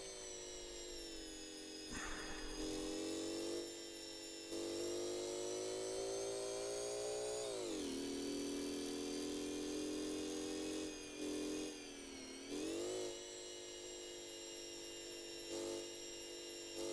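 Motorcycle built in GearBlocks revving, with a tonal engine whine that climbs, drops and surges again through gear changes, brief dips between, steady and fairly faint.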